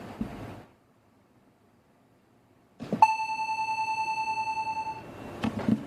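A synthesized bell-like tone with a linear release sounds after a short pause. Its bright pitched ring with overtones holds steady, then cuts off after about two seconds above a faint rumbling hum.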